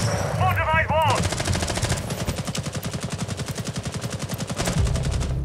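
Sustained AK rifle fire in a video game, a long rapid automatic burst of evenly spaced loud cracks, close and dominant, with a brief voice at the start.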